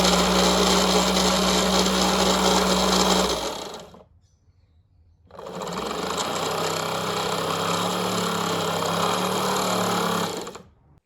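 A small electric motor drives the drivetrain of a 1960s Veron Caribbean Coaster model boat, powered by a lantern battery. It buzzes loudly and steadily, stops for about a second, then runs again before cutting out.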